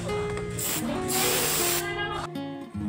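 A can of carburetor cleaner sprays in a continuous loud hiss onto the speed sensor of a 2001 Honda Civic, with a short pause and a final brief burst near the end.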